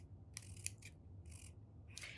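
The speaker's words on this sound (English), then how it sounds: "we just run our scissors and make cuts like so." Scissors snipping crepe paper into long strips: short bursts of crisp cutting, three or four quick slices with brief pauses between, close and quiet against a low background hum.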